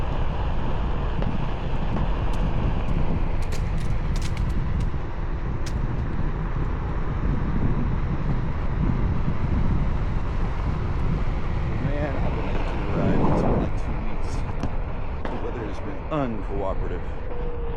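An 18–20 mph wind blows at about 40 degrees on the Osage Trail during a OneWheel XRC ride, roaring and buffeting against the microphone throughout. Someone talks now and then.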